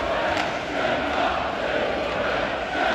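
A packed arena crowd at a Swedish professional hockey game between Djurgården and Mora roars and yells continuously during a scrum, a loud, dense wall of cheering and shouting with no pauses.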